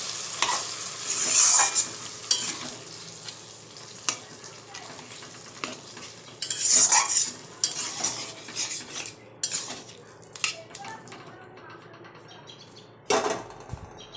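Boiled dal goes into hot oil in a pan and is stirred and fried, giving a sizzle under repeated scraping and clanking of a metal spoon against the pan. Louder bursts come in clusters.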